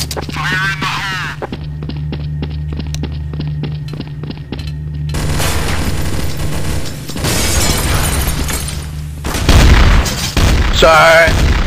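Grenade blast in the video game Counter-Strike: Source, a loud boom with shattering crackle and a brief spray of gunfire, following a stretch of repetitive game sounds.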